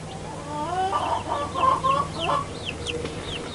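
A mother hen that hatched her own eggs clucks softly among her chicks, whose thin high peeps repeat throughout, close by over a low background hum.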